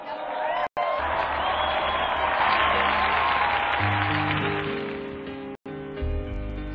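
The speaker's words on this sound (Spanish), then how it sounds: "Ofrezcamos nuestro sincero aplauso a San Simón Pan Dac Hoa" A church congregation breaks into applause, a dense crowd clapping that swells and then thins, with organ or keyboard chords entering underneath toward the end.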